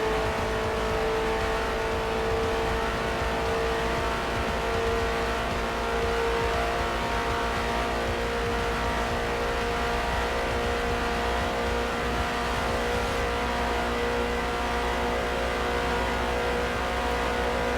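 A Ford race car engine held at full throttle in Forza Motorsport, a steady high-pitched drone near redline that runs unbroken and loud for the whole stretch, with no talk over it.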